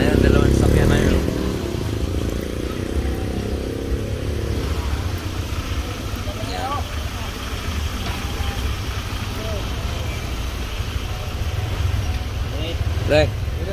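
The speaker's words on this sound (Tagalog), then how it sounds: "Ayun, nagmumotor." Steady motorcycle engine drone on the road while following another rider, a continuous loud rumble with wind noise and people talking over it.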